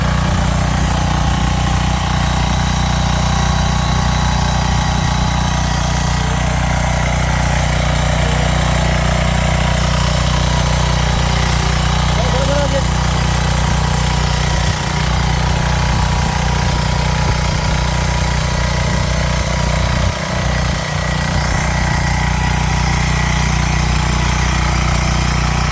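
A waterproof power tiller engine runs continuously in a flooded paddy field during rice sowing, a steady low chugging drone that stays loud and even the whole time, with no voices.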